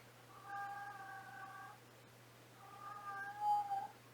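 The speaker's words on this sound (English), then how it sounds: "I got a cat hollering." An old, going-deaf cat lets out two drawn-out, loud hollering meows indoors, separated by a short pause, with a low steady hum underneath.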